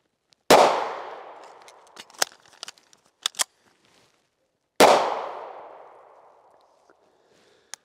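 Two sharp pistol shots several seconds apart during a magazine change drill, each a loud crack with a ringing decay, with small metallic clicks and clacks of the magazine swap between them.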